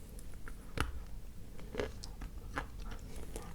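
Bites and crunches into a piece of Orsk opal chalk, several distinct crisp snaps spaced about a second apart with faint chewing between, close and quiet with no talking.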